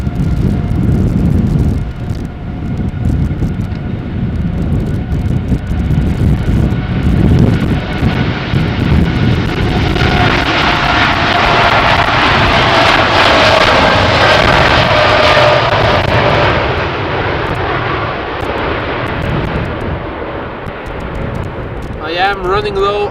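Boeing 787 Dreamliner jet at Schiphol Airport, a loud continuous engine roar that swells and sweeps over about twenty seconds under wind noise, with people talking nearby.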